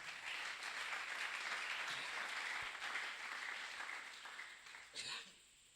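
A church congregation applauds steadily for about five seconds, a dense wash of clapping that fades toward the end, with a brief burst of cheering or voices just before it stops.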